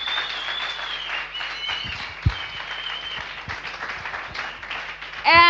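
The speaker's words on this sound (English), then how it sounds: "So another round of applause." Round of applause from an audience at a coding bootcamp demo day in Lisbon, with dense, fairly close clapping throughout, a brief thump midway and a voice at the end.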